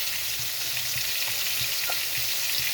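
Potato and eggplant fry in a pan with a steady, loud broadband sizzle, broken by soft periodic scrapes of stirring, with no voices.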